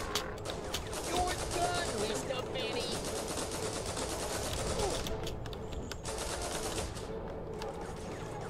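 Gunfire from Guns, Gore & Cannoli 2 rattles almost nonstop in dense bursts of rapid shots, with a voice talking over the shooting throughout.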